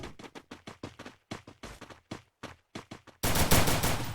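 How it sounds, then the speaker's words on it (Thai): Gunfire in the mobile battle royale game Free Fire: a rapid run of sharp, evenly spaced shots with brief gaps, then a louder dense burst of continuous fire near the end, with no talking. "ยิงแล้ว ไม่เจอใครเลยยิงอะไรกันนะ"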